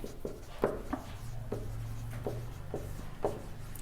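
Chalk or marker strokes on a classroom board during a maths lesson, a run of short taps and scrapes in an irregular rhythm over a steady low hum, close by and fairly quiet.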